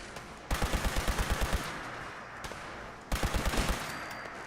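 A loud weapon fires in the video game Fallout 76 as two rapid bursts of about eight shots each, close and punchy, with a pause between bursts.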